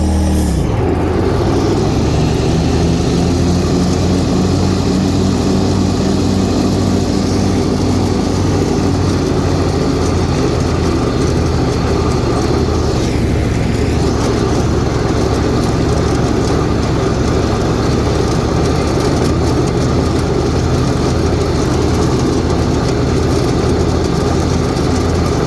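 A 60-inch John Deere F687 commercial-grade zero-turn riding mower runs close by with its blades engaged, giving a loud, steady engine drone that barely changes through the whole stretch.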